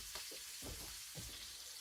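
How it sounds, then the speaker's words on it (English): Food frying in a hot pan, heard as a quiet, steady sizzling hiss with a few soft low knocks, faint and close, with no voices. "You can hear it sizzling pretty good."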